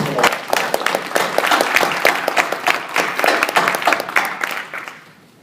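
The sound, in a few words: audience applause at a meetup talk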